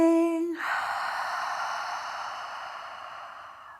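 A long, deep exhale through the mouth during yoga breathing, starting with a brief voiced tone then fading into a soft, steady breathy rush close to the ear.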